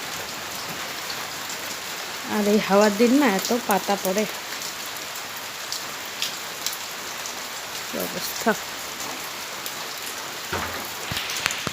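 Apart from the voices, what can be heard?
light drizzling rain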